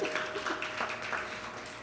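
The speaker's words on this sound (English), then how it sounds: "I'll give them a clap down in the corner." Faint, steady applause from an audience at an 80th birthday satsangh night, a soft continuous patter of clapping heard at a distance.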